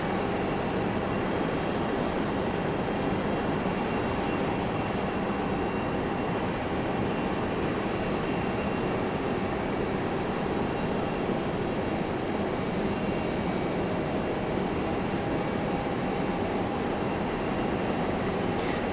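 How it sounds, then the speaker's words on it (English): An American Airlines Embraer E175 regional jet taxis toward the runway at Raleigh-Durham International Airport, a steady, fairly loud broadband engine roar with a faint high whine, continuous and unchanging throughout with no talk. "we got an E175 from American making its way out to the runway"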